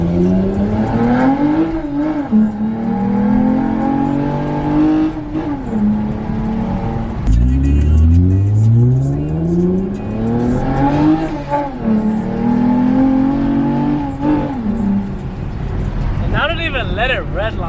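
Go-kart engine revved hard toward redline, its pitch climbing and falling in repeated surges with small popping crackles, loud and close, with people talking over it.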